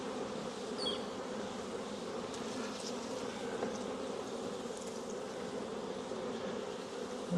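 Honey bees buzz steadily around an open brood frame lifted from an old hive during a nuc install, a dense continuous drone close by with occasional individual bees passing.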